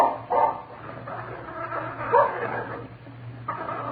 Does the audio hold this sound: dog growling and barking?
yes